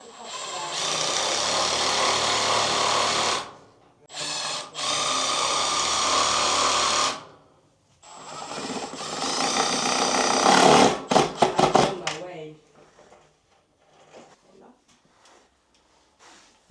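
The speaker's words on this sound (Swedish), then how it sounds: "Så vi borrar lite grann" A power drill bores into a wall during an apartment renovation, running in several long, loud, steady bursts with short pauses, followed by quieter handling noise and people talking.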